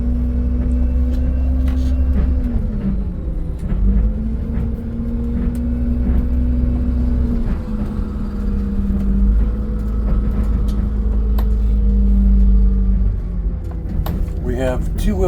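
A small 20-passenger wheelchair bus rumbles along with a steady engine drone and shifting pitch, with creaks and rattles from the body, recorded from inside the cabin.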